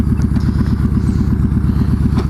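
A motorcycle is ridden with its engine running close and loud, a steady throbbing pulse that holds evenly throughout with no talking.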